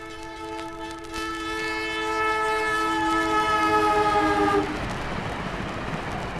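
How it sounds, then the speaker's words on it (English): An electric train passes beside the track, its horn sounding as long sustained harmonic tones that build in loudness then cut off, leaving rolling rail noise and clatter as it goes by. "we're adjacent now, or even beside, the electric train track. And fortunately, one's coming along."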